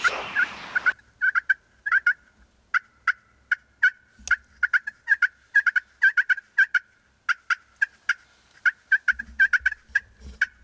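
A rapid series of sharp turkey yelps and clucks from a hunter's call, many short repeated calls in irregular bursts, clear and fairly close in a quiet Kentucky woodland setting.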